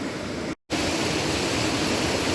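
A loud river on New Zealand's West Coast rushes in a constant broadband roar close by, broken by one very brief gap of silence early on.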